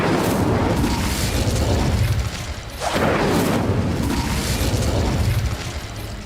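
Incendio fire spell cast in the game Hogwarts Legacy, a loud, dense rushing burst of flame that roars continuously, dips briefly, then surges again before fading slightly.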